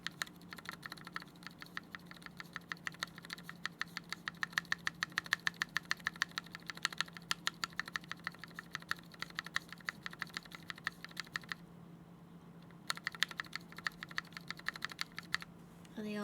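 Rapid, steady typing on a rattly Matrix Lab ME mechanical keyboard fitted with GMK keycaps, close and clear, with dense clacking keystrokes that pause briefly near the end before resuming.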